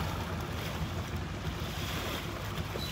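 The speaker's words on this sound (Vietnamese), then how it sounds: "Bây giờ thì ghe vô nha." A boat coming in on open water with steady engine rumble mixed with wind and lapping waves, a constant wash of noise.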